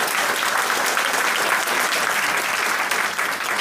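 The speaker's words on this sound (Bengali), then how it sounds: "তো আরেকবার জোরদার হাততালি হয়ে যাক।" An audience at a sales training event breaks into loud, sustained applause, dense clapping from many hands for several seconds without a pause.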